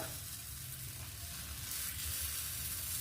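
A stuffed bun dosa cooks on a hot pan with a soft, continuous sizzle and faint frying crackle, steady and close, with no voices.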